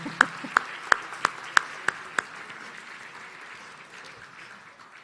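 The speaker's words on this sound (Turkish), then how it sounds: "Onları bir alkışlayalım uyandıralım onları" Applause from an audience in a hall at a youth conference closing event, starting with about seven loud separate claps before settling into steady, fading clapping without voices.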